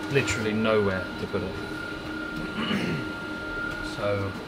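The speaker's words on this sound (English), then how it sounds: "I don't know how long this train journey is." A moving passenger train carrying football fans gives a low, steady rumble and hum inside the carriage, running beneath a man's close, continuous talk.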